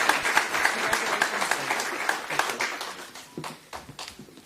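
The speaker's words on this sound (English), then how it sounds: "So please give a huge round of applause to Paul Tusoni" At a county public safety awards celebration, a crowd gives a round of applause for an honoree, dense clapping that loosens into scattered claps and gradually fades.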